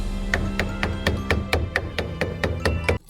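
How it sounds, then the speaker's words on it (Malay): Rubber mallet tapping a car wheel rim into place, about a dozen evenly spaced, sharp, close taps over a few seconds, then silence. "ambil rubber mallet"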